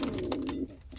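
Indian fantail pigeon cooing close by, a low steady throaty coo with a few soft bursts, then a brief pause and a short final coo.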